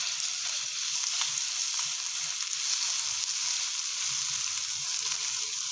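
Garlic ginger paste and turmeric fry in hot olive oil with a steady, bright sizzle that holds evenly throughout, close and continuous with no talking.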